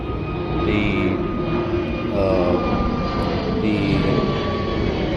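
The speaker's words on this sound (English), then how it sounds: "the shaking is due to the wind that we are having here" Wind blows outdoors around a Newtonian telescope, a steady close rumbling roar with buffeting on the microphone, alone without talk.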